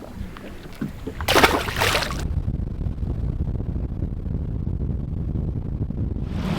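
A bass boat idles out on the Potomac River, its engine a steady low rumble, with a burst of wind noise on the microphone early on.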